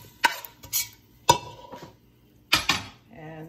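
Parsley potatoes stirred in a pan on a switched-off stove, with a few sharp clanks and scrapes of a utensil against the pan, irregular and close, with brief sizzle-like rustle between hits.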